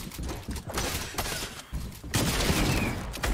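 Gunfire in the video game Fortnite, played with a controller: bursts of rapid shots and mechanical clatter over a few seconds of chaotic in-game action.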